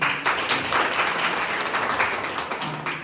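An indoor audience breaks into a brief burst of applause, many hands clapping together loud and close, swelling and fading in uneven waves over a few seconds.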